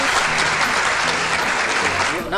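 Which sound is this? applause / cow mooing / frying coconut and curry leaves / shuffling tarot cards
applause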